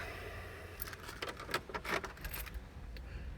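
A full set of keys and spare keys for a 2005 VW T4 Autosleeper Gatcombe camper van jangle in a quick, close metallic rattle with several bright clinks. No one speaks.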